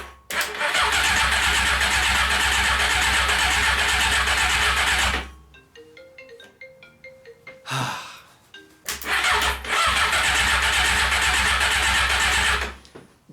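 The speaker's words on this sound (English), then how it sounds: "All this really tells us is the engine turns over, it's not seized, and the starter motor works" A Honda motorcycle engine cranks over loudly on its starter motor in two long bursts of steady churning, separated by a quieter stretch with faint clicks and tones.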